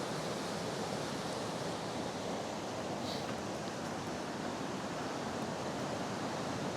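The foaming water of the Byala river rushes in a steady, dense wash of noise, continuous and fairly close, with no voices over it.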